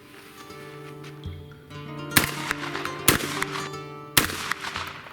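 Reloaded shotshells fired from a shotgun during hull-life testing, three sharp loud blasts spaced about a second apart over steady background hum.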